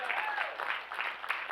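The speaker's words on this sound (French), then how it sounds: "je ne me ferai pas applaudir comme vous faites là" A church congregation applauds a preacher in a short burst of steady clapping, with a voice heard faintly over it.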